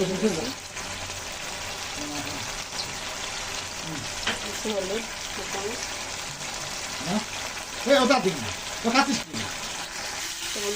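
Kashmiri dhoka curry fries with spices in a pan, a low continuous sizzle broken by bursts of spoon scraping and stirring, while someone talks over the cooking.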